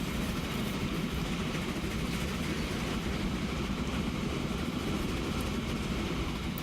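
A train rolls past a depot in Transport Fever, a steady loud rumble with faint rail clatter, continuous and unbroken with no talking.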